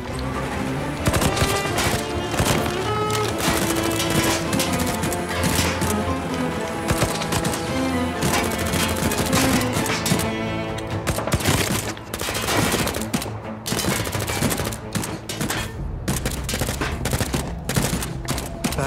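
Dense machine-gun and rifle fire rattles through a battle scene in a Turkish TV drama, with loud rapid bursts continuing almost without pause across the whole stretch.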